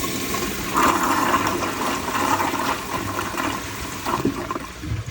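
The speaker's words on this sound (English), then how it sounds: "Let me give it one more flush." A 1978 American Standard Glenco toilet flushes close by with a continuous rushing gurgle of draining water. The rush holds steady for several seconds with no voices.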